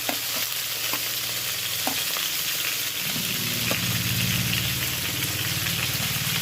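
Chopped garlic, onion and mutton fat with a couple of mutton pieces fry in hot oil, a dense continuous sizzle that swells after a few seconds, with occasional stirring taps and no talk.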